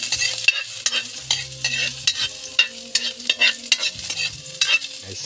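Ginger frying in hot oil in a wok over a wood-fired stove, a close steady sizzle broken by repeated scraping stirs of the utensil against the pan, with no talk.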